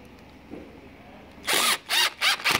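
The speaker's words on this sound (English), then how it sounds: "And then drill the screw in." A power drill whirs in four short bursts after a quiet moment, each spin rising and stopping as it drives in a screw while replacing a parachute cable.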